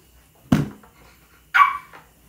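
Dog barking indoors at home: two separate sharp barks about a second apart, fairly close and loud, with quiet between them.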